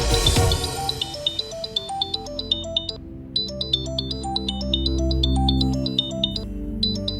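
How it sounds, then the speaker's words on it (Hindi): Phone ringtone of an incoming video call, a bright repeating electronic melody of short tonal notes over a low sustained backing, loud and close with no talking. "मैडम सर हमें काहे फोन कर रही है, वो भी वीडियो?"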